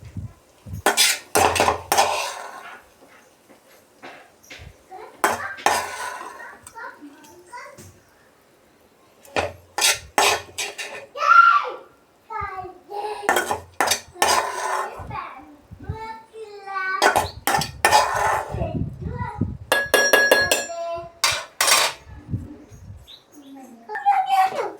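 Batter is mixed in a bowl with a spoon, clattering and scraping in uneven bursts up close, while a child and an adult talk between strokes and birds chirp faintly.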